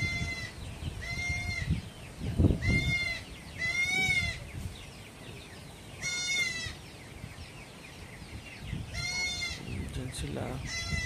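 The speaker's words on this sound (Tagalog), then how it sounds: "Yung ibang kambing yung dito." Several goats on a farm bleat in repeated loud calls spaced a second or two apart, close by, with people talking quietly between the cries.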